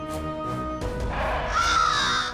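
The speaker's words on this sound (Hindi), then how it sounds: "ये तो सरजी राव का कौवा है।" Crow cawing in a tense indoor TV drama scene, a few rough caws against a busy background of other sound, fairly close and loud with no talk over it.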